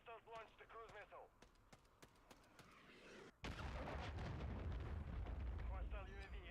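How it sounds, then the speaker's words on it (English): A cruise missile strike lands in Modern Warfare 3 as a sudden heavy, rumbling blast that swells and sustains after quieter talk and gunfire, with voices chattering over the scene. "Hostiles launched the cruise missile"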